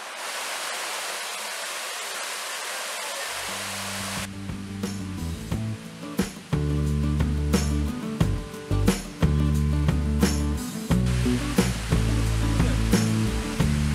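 A river on the water trail at Old Kavala rushes with a steady broadband roar for about four seconds before music starts and largely covers it.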